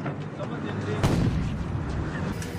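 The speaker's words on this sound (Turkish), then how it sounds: "Gemi Dolmabahçe önlerine geldiğinde 21 pare top atışı yapıldı." A 21-gun cannon salute fired from a warship passing through the Bosphorus, heard as booming reports that are muffled and blurred into a broad rumble, with a crowd murmuring throughout.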